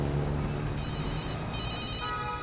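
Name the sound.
telephone ringing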